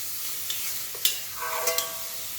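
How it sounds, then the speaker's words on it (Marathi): Green chilli thecha, a coarsely pounded mixture, being stirred and sautéed in a pan, giving a faint, steady sizzle with a few soft scrapes and clicks from the spoon. "हा जो कूट केलेला होता तो यामध्ये घालून घ्यायचा आहे आणि व्यवस्थित असं परतून घ्यायचं आहे"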